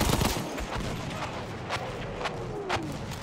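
Artillery fire in Battlefield 1, a dense barrage of loud explosive booms and cracks with several sharp blasts rolling through, and a whistling shell descending across the middle.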